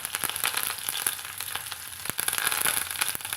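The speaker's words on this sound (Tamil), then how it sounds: "வெட்டி வச்சுக்கிற வெங்காயத்தை சேர்த்துக்கலாங்க. கூடவே கொஞ்சம் கருவேப்பிலை இலைகளையும் சேர்த்துக்கலாங்க." Onions and curry leaves frying in hot oil, a dense crackling sizzle with sharp pops scattered through it, steady and close, with no talking.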